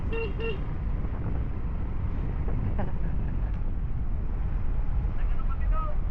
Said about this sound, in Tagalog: ganito rin ang hangin.